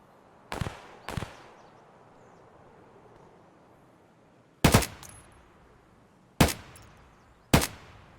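Five sharp gunshots in Escape From Tarkov, a quick pair early on, then a pause and three more single cracks spaced about a second or two apart, each with a short echoing tail over a quiet background.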